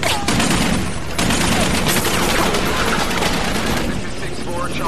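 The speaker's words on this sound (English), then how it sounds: "They're shooting at us!" Dense gunfire from the film Black Hawk Down, a near-continuous fusillade of rifle and machine-gun bursts under shouting soldiers, loud and sustained throughout.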